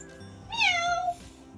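A person imitates a cat with a single drawn-out, rising and falling meow, close and clear against a quiet indoor background.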